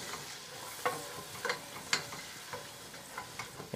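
Onions and mushrooms saute quietly in a pan for a veal blanquette garnish, a soft steady sizzle broken by several light clicks and scrapes of stirring at irregular intervals, nobody speaking.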